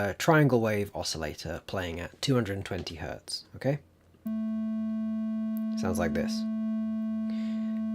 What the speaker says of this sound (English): just a regular triangle wave oscillator playing at 220 Hertz